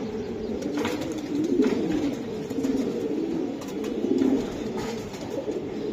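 Racing pigeons at a Bangladeshi pigeon racing club coo continuously in a dense, overlapping murmur, swelling and easing in loud rounded throbs with faint wing rustles, close by and with no talking.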